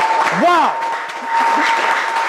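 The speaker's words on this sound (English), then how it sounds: "A round of applause, ladies and gentlemen." Applause from a television game show audience rises and continues as a steady wash of clapping, with a voice briefly exclaiming over it near the start.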